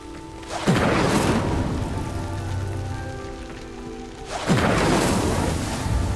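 Two deep, roaring whooshes of an Incendio fire spell set a pyre ablaze in Hogwarts Legacy, each burst swelling into a crackling, rushing burn that fades before the second flare.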